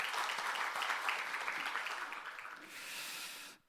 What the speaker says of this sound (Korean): 이와 같이 고백한 사람들을 향하여 우리 한번 박수 한번 쳐볼까요?